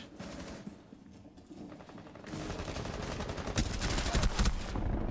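Video game gunfire rattles in dense rapid bursts, growing louder and more continuous partway through, with a busy mechanical game backdrop and no talk.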